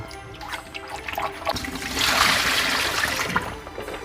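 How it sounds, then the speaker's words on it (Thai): Plain water pours and splashes into an electric kettle during descaling, a steady running trickle that swells into a fuller gush midway, close up with no talking. "เราก็ใส่น้ำเปล่าลงไป เพื่อล้างกลิ่นของน้ำส้มสายชู"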